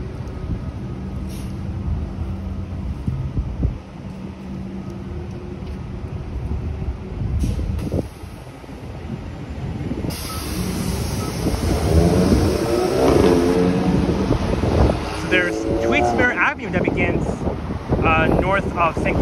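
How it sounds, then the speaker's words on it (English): Westbound street traffic on St. Clair Avenue West in Toronto, with a continuous roar of passing vehicles, wind buffeting and a hiss of brakes, while someone talks over it. "And look at all the westbound traffic."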